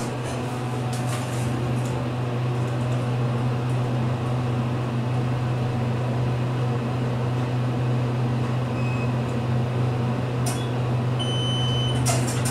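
Motor of a hydraulic elevator at 50 Livingstone Ave, Dobbs Ferry, NY, running as a steady loud low hum with a constant tone, unchanging throughout.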